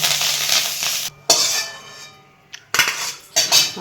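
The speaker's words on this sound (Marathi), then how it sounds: "लसूण आणि आलं हे छान भाजून घ्यायचं वाट छान येते कोथिंबीर आणि थोडा कढीपत्ता ते पण छान भाजून घेऊ शकतो" Garlic, ginger, coriander and curry leaves dry-roasting in a pan, with a steady broadband sizzle and scraping stirs, broken by a short lull before resuming with a few sharper utensil knocks.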